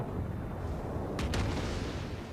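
The battleship Amagi fires its main guns in World of Warships. A brief, sharp double boom cracks out midway over a steady low rumble of noise.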